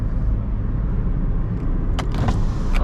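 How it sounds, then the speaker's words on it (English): Electric window motors of a 2008 Hyundai i10 whir in short bursts near the end, heard close inside the cabin over a steady low car rumble. "Automatic windows."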